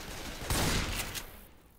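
Pistols fire in a Left 4 Dead 2 match, a faint burst of several rapid shots fading quickly into quiet game background.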